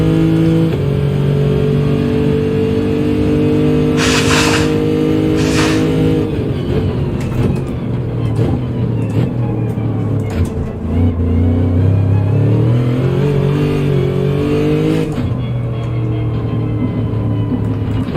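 A Gr.3 race car engine at Watkins Glen in Gran Turismo 7 is loud and close, revving up and down through repeated gear changes and shifting pitch, with no talking over it.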